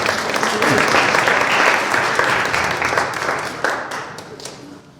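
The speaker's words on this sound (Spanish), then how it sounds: "Así que la recibimos con un fuerte aplauso." Audience applause welcoming a speaker at a book presentation, loud sustained clapping from a crowd that gradually thins to a few scattered claps before dying away.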